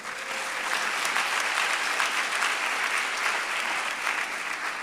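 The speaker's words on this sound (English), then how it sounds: "This deserves a round of applause indeed." Sustained applause from a lecture audience at a memorial public lecture, a dense steady wash of clapping that holds at even loudness for the full stretch without pause.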